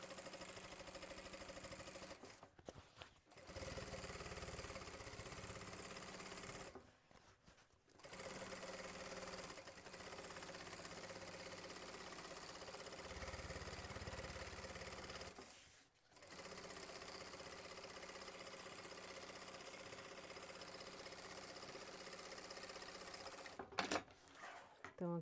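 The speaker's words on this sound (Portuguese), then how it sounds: "E faço uma costurinha só pra fechar aqui" Sewing machine running in several bursts as it stitches a seam closed on a fabric organizer, the steady whirring broken by short pauses, close and fairly loud.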